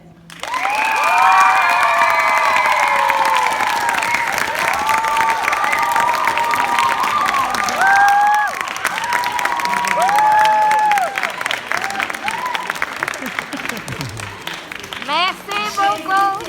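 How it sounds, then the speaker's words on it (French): Schoolchildren in a classroom applaud and cheer loudly and continuously, with dense clapping and excited high shouts and whoops layered over it, tapering slightly near the end. "Les élèves, applaudissez Monsieur Yannick."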